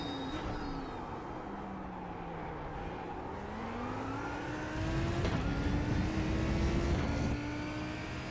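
Lamborghini GT3 race car in iRacing at Hockenheimring, its engine note stepping down in pitch through a string of downshifts toward first gear, then rising again, steady and fairly loud with no talking.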